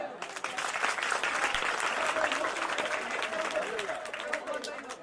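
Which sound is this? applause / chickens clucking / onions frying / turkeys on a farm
applause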